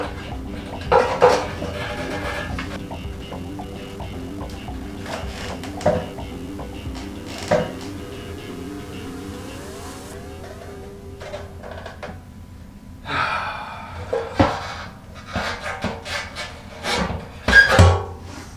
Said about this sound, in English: so now it's time to get this tank back onto the bike